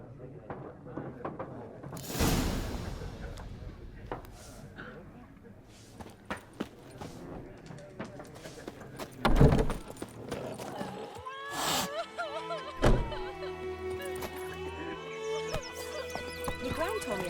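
Hooves of the horse Roach in The Witcher 3: Wild Hunt, soft clip-clop steps with a whinny and snorts, scattered knocks and thuds, and someone speaking over the ambience.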